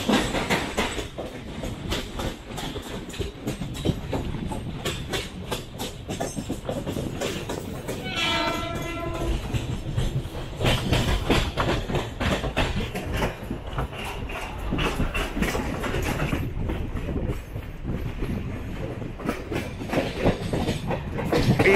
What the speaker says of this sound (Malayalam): നമ്മൾ സബർബൻ ലൈനിൽ കൂടെ വന്നുകൊണ്ടിരിക്കുന്നത്